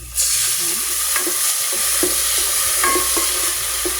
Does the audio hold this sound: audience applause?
no